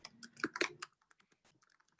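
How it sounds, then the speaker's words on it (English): Someone types an email address on a computer keyboard: a quick, close burst of clustered key clicks, then sparser, softer taps trailing off. "I'm going to type my email into this chat box."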